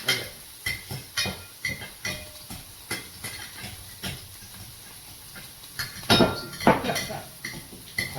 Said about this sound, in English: Now what you want to do is you want to mash them all together.